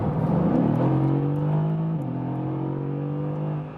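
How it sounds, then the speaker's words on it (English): A Mercedes-AMG GT V8 sports car engine revs up and accelerates, its deep rising roar shifting gear partway through, loud and close. "Has this sonorous V8 sound."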